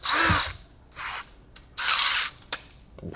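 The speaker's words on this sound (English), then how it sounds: "we're going to change our drill bit out for" Power drill opening a rivet hole wider in Kydex sheet with a 7/32 bit for a holster, heard as several short, close bursts of whirring and grinding separated by pauses, with a sharp tick near the end.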